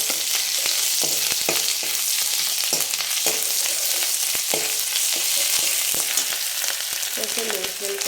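Ginger garlic paste sizzles steadily in hot oil for a chicken soup, with a spoon scraping and stirring it in irregular knocks over a constant frying hiss, close and fairly loud.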